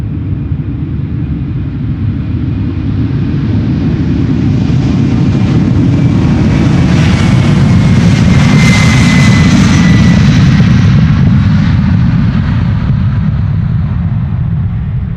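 Jet engines of a Boeing 767-400 roar on takeoff at an airport, a loud, continuous rumble with a rising whine that swells toward the middle and fades slightly as the airliner passes.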